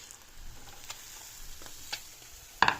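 A wooden spoon spreads melting kaşar cheese around a pan over a faint sizzle, giving soft scattered scrapes and taps, with a louder clatter near the end.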